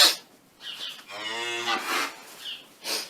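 Cows on a farm: a near, loud, drawn-out moo with a clear harmonic tone, surrounded by shorter lowing calls before and after it.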